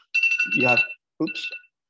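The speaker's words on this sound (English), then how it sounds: "I set a timer for myself here and it's going off" A timer alarm goes off during a dental program presentation: a loud electronic tone that beeps in a rapid pulsing pattern, with speech-like sound layered over the first burst and a second shorter burst after a pause.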